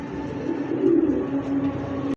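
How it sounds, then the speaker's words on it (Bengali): A king pigeon coos close by in a low, continuous murmuring call that holds steady for about two seconds before cutting off. "আমাদের বাংলার কিং কবুতর।"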